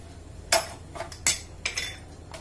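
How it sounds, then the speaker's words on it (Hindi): Chicken pakora batter with crushed coriander, red chili powder, salt and green chilies is mixed in a bowl, giving four or five close, bright clinks and scrapes of utensil against dish in uneven bursts. "सभी चीजों को हम बहुत अच्छे से मिक्स कर लेते हैं"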